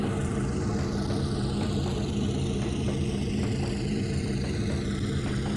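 A diesel locomotive in the Trainz 2022 railroad simulator, on the C&O line near Hinton, holds a steady mid-low engine drone as it gears up, with faint rising whine above and no talk.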